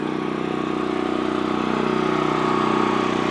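A Predator portable generator runs steadily at close range, giving a loud, even engine drone with a buzzing, mechanical hum that holds constant throughout.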